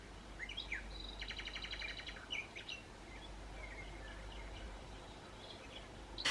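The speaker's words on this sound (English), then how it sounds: "it will start a noise to wake you up. The one I've selected is bird song." Recorded birdsong from an alarm clock chirps and trills in short bursts, fairly quiet over a steady low hum, with a brief louder rustle at the end.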